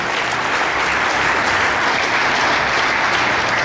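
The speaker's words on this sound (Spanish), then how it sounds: "le brindamos un caluroso y sentido aplauso" Audience at a school ceremony honouring the founding sisters gives warm, sustained applause, a dense even roar of clapping that holds steady throughout.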